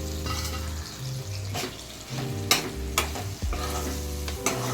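Brinjal added to peas in a pan and stirred, with steady sizzling frying under repeated scraping stirs and a few clinks of the spoon against the pan, close by, with no voices.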